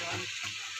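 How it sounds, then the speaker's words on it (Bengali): Water poured into a cooking pan of cooked-down spiced masala for an egg curry gives a brief, close hissing gush with sizzle, lasting under a second. "জল ঢেলে দিলাম।"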